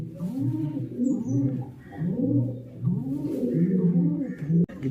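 A racing pigeon in a home loft coos in repeated soft, rolling phrases, close and steady, with some faint background noise.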